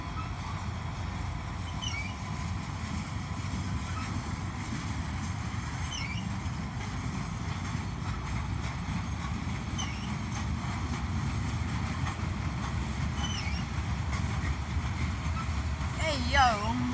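Three freight locomotives working hard as they haul a train, a steady heavy diesel rumble that holds loud and constant throughout, with faint intermittent squeals and clanks above it and no talking.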